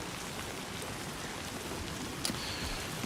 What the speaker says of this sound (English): Let's head out into the rain.